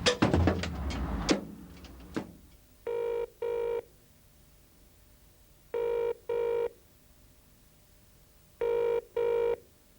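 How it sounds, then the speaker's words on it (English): After a brief clatter of handling noise, a telephone rings three times in paired double trills with long gaps between, moderately loud in a quiet space. "the phone ringing."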